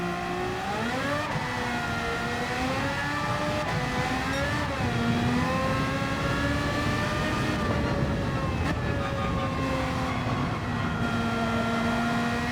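A race car in the Gran Turismo 7 video game revs hard at half throttle while spinning its wheels, a loud continuous engine whine rising and dipping in pitch for the whole stretch with no talking.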